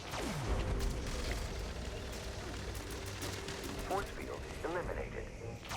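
Gunfire from a video game battle against robots, with rapid bursts of shots layered over dense, continuous game effects at a steady loudness throughout.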